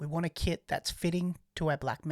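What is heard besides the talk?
No everyday noises stand out.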